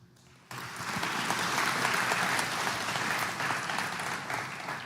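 A seated audience at an academic opening ceremony breaks into loud, sustained applause that starts abruptly and holds steady as a dense wash of clapping for several seconds.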